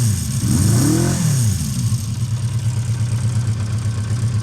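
A 1976 Honda CB400 Four motorcycle engine warms up, a close, loud blip of the throttle rising and falling early on, then settling into a steady, throbbing idle with no talk.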